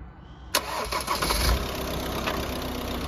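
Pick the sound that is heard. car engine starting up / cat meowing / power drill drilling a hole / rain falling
car engine starting up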